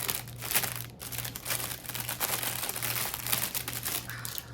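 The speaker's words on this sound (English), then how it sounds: "Sorry about the crinkle." Crinkly packaging from an advent gift is handled and pulled open, a close, steady rustling and crackling that runs throughout with small bursts, no one talking.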